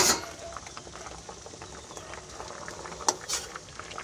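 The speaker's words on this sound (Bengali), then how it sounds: "এইদিকে আমি আলু সিদ্ধ বসিয়ে দিয়েছি" Potatoes boiling in a covered pot, a steady low bubbling and gentle patter held close throughout, with a couple of brief clinks near the end and no talk.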